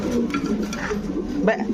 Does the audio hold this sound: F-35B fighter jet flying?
no